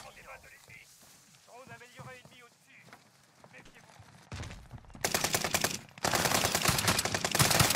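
Shotgun blasts in a shooter game, a dense run of loud, rapid reports in the last few seconds, following quieter game sounds and voices talking.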